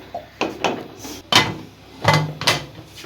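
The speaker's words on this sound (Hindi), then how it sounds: "ये जी हमने कुकर कर दिया बंद।" A pressure cooker lid is closed in a home kitchen with several sharp metallic clanks and knocks, close and fairly loud, spaced unevenly with no talk.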